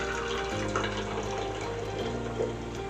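Ginger tea poured from a kettle or pot into a cup at home, a continuous close liquid stream with a steady trickle and faint splashing, alone without talk.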